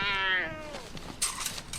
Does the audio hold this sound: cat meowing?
yes